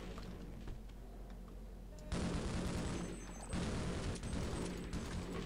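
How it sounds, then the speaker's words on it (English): A grenade blast in the Half-Life game, a sudden loud burst that jumps out of the game noise and then a second surge of rumbling debris follows, with no talk over it. "Just lobbed a grenade."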